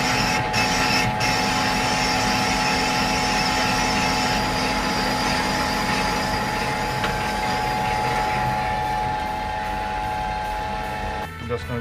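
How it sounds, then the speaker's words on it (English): A boring tool cuts into the intake port of a big bore stroker cylinder, producing a loud, continuous metallic machining drone with a steady tonal whine and a rough, interrupted grinding texture that persists throughout before easing near the end. "Got to the intake port now. You can hear the cut is getting interrupted."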